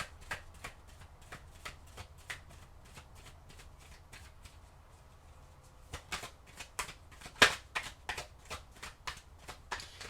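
Tarot cards being shuffled by hand, a run of quiet crisp riffling snaps in an irregular rhythm, with a louder burst of rapid flicks near the end, close and alone.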